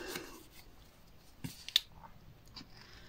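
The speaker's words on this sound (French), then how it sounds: "On va couper également nos coins." Scissors snipping the corners of very thin, easily torn paper for a handmade advent calendar, a few soft, close cuts and rustles against a quiet room.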